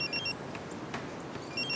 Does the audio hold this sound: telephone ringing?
yes